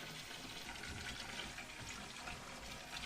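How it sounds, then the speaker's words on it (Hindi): Something is rinsed under an open running tap at a sink, the water pouring in a steady, close, even rush that fills the whole short stretch without any voices. "तो इसको खुले पानी में धोएंगे।"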